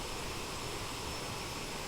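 A CRJ700 regional jet cockpit in a flight simulator game fills with a loud, steady engine roar and a broadband hiss, constant throughout with no talk.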